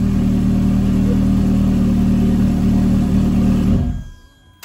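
A Ferrari's engine idles loudly and steadily, close by, with a deep rumble, then cuts off near the end and leaves near silence.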